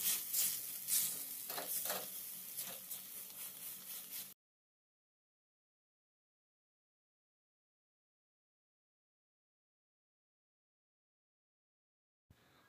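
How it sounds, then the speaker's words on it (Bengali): Poppy seed paste masala for Bengali prawn posto being stirred and fried in a pan: a loud sizzle with repeated scraping stirs for about four seconds, then silence until a brief faint noise at the very end. "এবার মশলাটাকে খুব ভালো করে নেড়েচেড়ে কষিয়ে নিতে হবে"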